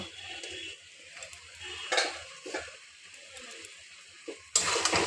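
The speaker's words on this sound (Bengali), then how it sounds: "ধনেপাতা দিয়ে একটু নাড়িয়ে নেব।" A spoon stirs gourd-leaf curry in a pan after coriander and rice flour go in. Soft scrapes and clinks come in a loose, unhurried rhythm over a quiet simmer, ending in a sudden louder burst of scraping.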